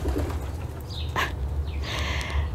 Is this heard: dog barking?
no